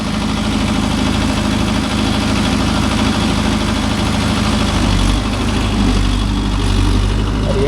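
A Mahindra Yuvo Tech Plus 585 4WD tractor working a field with a 9-tine cultivator runs with a loud, steady diesel drone that fills the whole stretch, close and unbroken.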